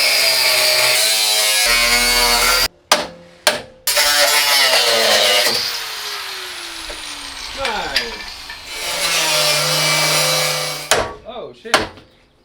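Angle grinder grinding down a welded steel bash bar, loud and close, running in several sustained high whining bursts broken by short pauses and spin-downs.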